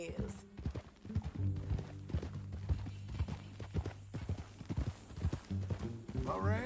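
Horse hooves clip-clop in a steady walking rhythm in the video game Red Dead Redemption 2, with a voice speaking over them and a short whinny-like sound at the end.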